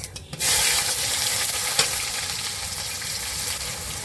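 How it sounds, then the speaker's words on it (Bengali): Onion and tomato fry together in hot oil with cumin for a village-style mutton curry, giving a loud continuous sizzle with scraping stirs in the pan and no talking. "টমেটো, পেঁয়াজ ভাজা হয়ে গেছে"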